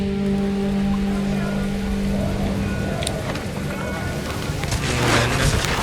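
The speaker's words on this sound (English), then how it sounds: "The rain came down in buckets then" Heavy rain in the video game What Remains of Edith Finch, a steady dense hiss filling the whole stretch, with a low sustained tone fading out and brief louder splashes near the end.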